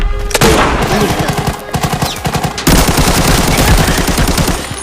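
Loud, rapid bursts of automatic AN-94 gunfire in the video game Arena Breakout, rattling in quick rhythmic volleys with a short break between them.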